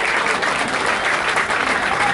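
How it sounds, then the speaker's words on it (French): Audience applause for the residents of participating apartment buildings during a Lyon magazine editor's speech: dense, steady clapping from a sizeable crowd for about two seconds, with no talking over it. "on peut applaudir leurs habitants"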